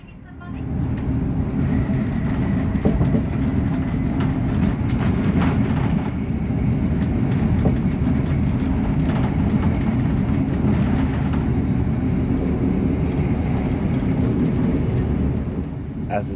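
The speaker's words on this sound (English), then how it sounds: "As the train speeds through," A GWR Class 800 train built by Hitachi runs at speed, heard from inside as a loud, steady low rumble with rattling and occasional knocks, continuous throughout.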